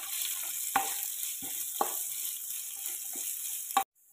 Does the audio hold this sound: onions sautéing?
yes